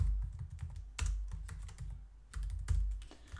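Keys clatter on a computer keyboard as code is typed into Xcode, a close, brisk run of clicks with short pauses and a few heavier bursts of keystrokes.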